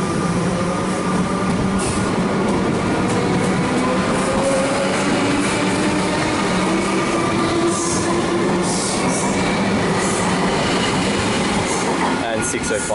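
A Comeng suburban electric train on the Werribee line departs Yarraville station in Melbourne, with a steady, loud rolling rumble, wheel clatter and faint squeal that stay constant across the whole stretch.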